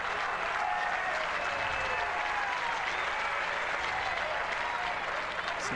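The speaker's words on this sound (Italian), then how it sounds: "Sentite gli applausi di incoraggiamento che sono evidentemente per il ragazzo del paese." A tennis crowd at the 2001 US Open, Federer versus Ginepri, applauds in encouragement, a soft, distant, continuous wash of clapping from a large stadium audience.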